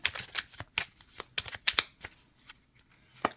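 Tarot cards are shuffled with quick, papery flicks and slaps up close, ending in a last card being drawn from the deck.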